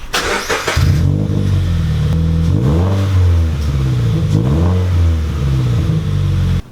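A Toyota GT86 engine idles loudly up close, then revs up and down several times in rhythmic swells with a raspy exhaust tone through its exhaust headers.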